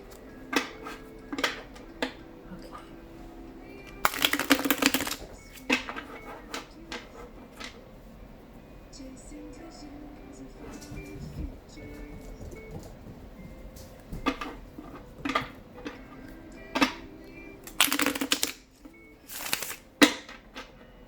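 Tarot cards are shuffled repeatedly at close range, with quick riffling bursts and soft taps and slides between them; no one speaks.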